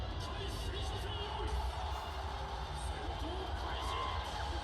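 Crowd cheering and whooping at a fighting-game event, a steady wash of distant voices and woos rising and falling continuously, with babble mixed in throughout.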